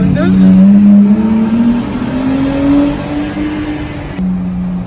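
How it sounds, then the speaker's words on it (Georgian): A Ferrari drives past at night near a tunnel, its engine rising and falling in pitch as it goes by, heard from inside a moving car with a voice talking over the engine noise. "ფერარი მოვიდა"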